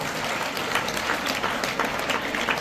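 Loud, dense applause from a school audience at a graduation blessing ceremony with a poet's motivational talk, sustained steadily with scattered sharper claps and cheers throughout.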